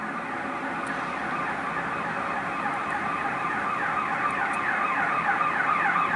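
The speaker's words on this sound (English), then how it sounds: "Here is the ambulance right here." An ambulance siren wails steadily on Wacker Drive, a Chicago street, near a film set staging explosions. The sound is continuous and fairly loud, rising and falling in a regular cycle over city background noise.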